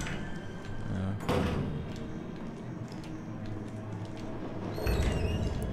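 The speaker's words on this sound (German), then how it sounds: "Mach die Tür halt nicht ganz auf." A door opens in the video game Resident Evil 3 Remake, with a couple of brief knocking and scraping thuds over a low, murky ambient background, fairly faint.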